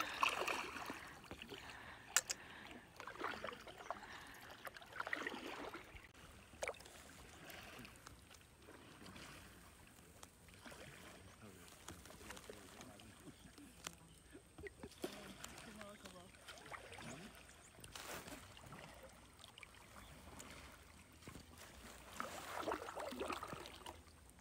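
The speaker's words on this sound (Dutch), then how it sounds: "Akash peddelt terug en ik zit als een diva." A small boat is paddled on the Suriname River, with quiet splashes and water movement, wind buffeting the microphone, and people chatting and laughing nearby throughout.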